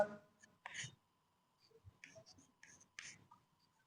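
Marker or chalk writing on a board during a Hindi-medium class 12 physics lesson on electric charge and field, heard as short scratchy strokes in bursts separated by pauses, fairly close and quiet.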